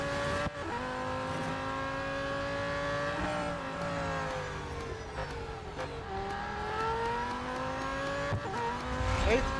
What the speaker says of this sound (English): Look at this car go